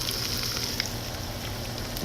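Eggs cook in a pan on a stovetop burner, a faint steady sizzle and crackle of hot fat with a small pop near the end, low and continuous.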